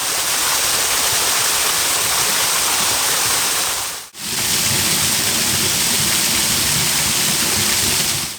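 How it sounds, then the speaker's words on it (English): Mungo's waterfall, a small hidden fall in a steep, narrow ravine in Ashdown Forest, East Sussex, pours in a steady, loud broadband rush that runs unbroken apart from a brief dropout midway. "Mungo's waterfall is one of the most elusive waterfalls in Ashdown Forest."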